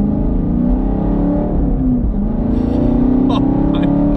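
A Chevrolet Camaro SS 1LE with a six-speed manual gearbox revs hard as it accelerates, its engine note climbing steadily and loud, close up and continuous throughout.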